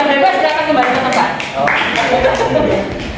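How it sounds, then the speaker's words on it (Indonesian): Classroom of students clapping during an Islamic education lesson, a steady dense patter of many hands close by, with voices mixed in throughout. "Tepuk tangan, Mas"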